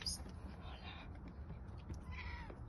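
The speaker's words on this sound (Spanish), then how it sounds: "Mira, está aquí la gatita embarazada." A pregnant cat meows softly over a steady low background hum, with short faint high-pitched calls spread across a few seconds.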